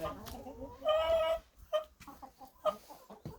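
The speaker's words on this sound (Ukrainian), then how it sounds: "От ці кури такі цікаві, крадуть їжу" Several chickens clucking and squawking nearby in short, uneven bursts, with some soft movement and shuffling around them.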